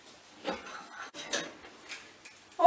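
A fork clinks and scrapes in a bowl as reconstituted egg is gradually beaten into a steamed fruit pudding mixture, with short scattered taps and rubs, fairly close, ending in a brighter knock.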